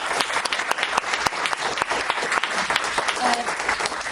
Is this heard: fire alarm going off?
no